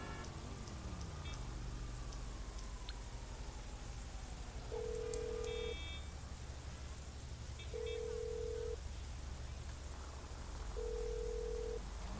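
Phone dialing in the GTA 5 online game, a call to the insurance company: repeated steady beep tones in three separate bursts over a continuous low rumble of game background noise, with no ringing evident.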